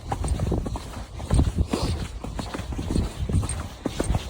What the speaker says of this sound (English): I am literally riding this horse non-handed the whole way.